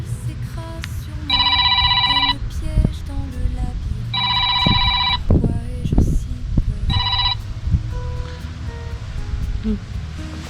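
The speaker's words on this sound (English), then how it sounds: "It might have been the campsite from last night ringing back." A phone rings three times in a parked campervan near St Omer, France: loud repeated electronic trills with pauses between them, over rustling and background handling noise.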